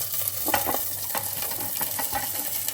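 Garlic, green chillies and spices fry in hot oil for biryani, a continuous soft sizzle broken by repeated light stirring scrapes and taps at close range.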